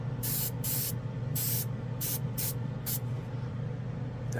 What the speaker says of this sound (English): it atomizes the paint really nice